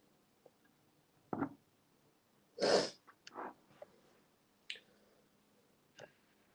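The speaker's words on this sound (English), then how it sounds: "But I had to sneeze." A single sharp sneeze bursts out in an otherwise quiet room, a loud close blast amid a few small clicks and faint bumps.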